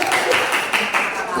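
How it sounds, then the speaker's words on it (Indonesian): A class claps for a student group after its presentation in a school science lesson, a brief burst of close, dense hand claps filling the room. "Oke, tepuk tangan untuk kelompok."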